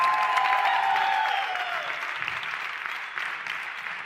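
Broad wash of audience applause at a live motivational seminar, steady and fairly loud with a faint tonal whistle or feedback line early on, tapering gently toward the end.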